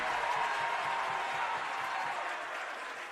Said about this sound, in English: Crowd certainly getting into it, aren't they, Paul?